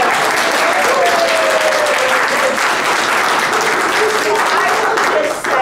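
Audience at a program celebrating baseball's diverse history applauds as the director is welcomed, a loud, dense burst of clapping with a voice briefly heard over it, fading at the end.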